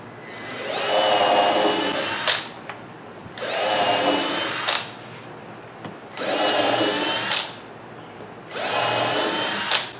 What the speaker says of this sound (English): drill the holes out.